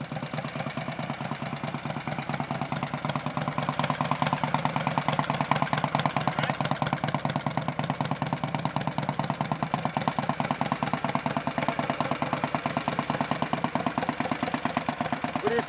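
An old Harley-Davidson Panhead motorcycle engine, run with no air cleaner, idles with a steady loping thump that grows louder after a few seconds and holds a fast, even rhythm close by.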